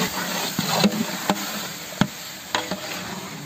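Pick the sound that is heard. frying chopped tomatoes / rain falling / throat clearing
frying chopped tomatoes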